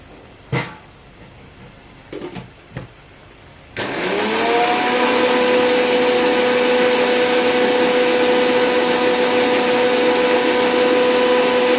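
A kitchen mixer grinder, used while making an egg and tomato pulusu, starts after a few soft knocks and clicks, then runs as a loud, steady whirring motor drone with a sustained whine until the end. No one speaks.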